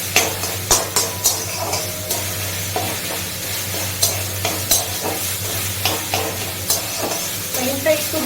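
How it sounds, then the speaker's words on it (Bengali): Paneer frying in a pan over low gas, a steady close sizzle punctuated by regular spatula taps and scrapes against the pan every second or so, with no voices. "পনিরটা একটু ভাজতে দেবো,"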